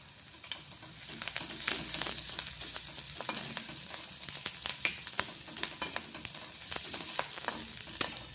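Curry leaves sizzle in a hot pan while ridge gourd bharit is being made. A soft, steady frying hiss carries frequent small crackles and spatters, fairly quiet and without voices.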